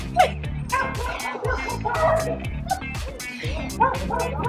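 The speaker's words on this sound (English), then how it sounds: "We got lots of dogs around here." Several dogs bark and yip repeatedly in the background, a mix of sharp yelps and whimpers, while a person keeps talking over them in a workout setting.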